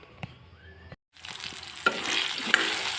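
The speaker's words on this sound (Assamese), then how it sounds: "এতিয়া আমি মাছ ফ্ৰাই কৰা তেল ৰখি গৈছে, সেয়াত আমি আলুখিনি ফ্ৰাই কৰি ল'ম।" Potato pieces sprinkled with turmeric frying in oil left over from frying fish, a soft steady sizzle that rises after a brief silence, with a couple of sharp utensil clinks against the pan.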